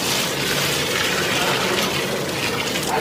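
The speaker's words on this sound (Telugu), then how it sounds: "ఆ బకెట్ నీళ్ళు కూడా ఇంకో దాంట్లో ఇందులో వేయాలి." Water pours from a bucket into another container while cooking mutton dum biryani, a continuous loud gushing splash with no talk over it.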